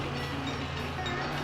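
A passenger train runs in the Railroad Tycoon II video game, giving a steady, even rumble of rail noise with a low hum throughout, continuous and moderately loud.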